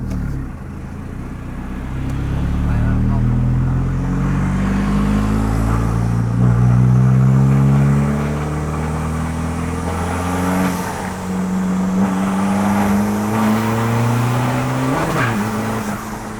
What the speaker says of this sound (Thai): ทอร์โบมันรอรอบหน่อยวะ เพราะว่าน่าจะเสียบเวกเกตเพราะว่าเป็นโบตัวธรรมดาไง